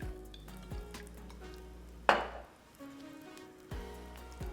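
Oil sizzles in a pan for shrimp and crab fried rice, a soft background crackle that flares into a sudden loud hiss as food drops in, then settles, with faint utensil clinks.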